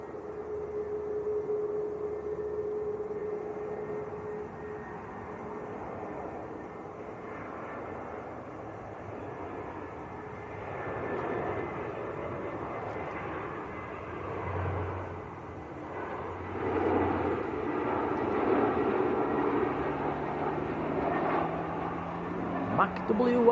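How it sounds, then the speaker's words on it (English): A SunExpress airliner taxis at Manchester Airport, its engine hum steady and moderately distant, swelling slightly louder toward the end, while a person talks intermittently over it. "Sun Express is taxiing out as well at the moment."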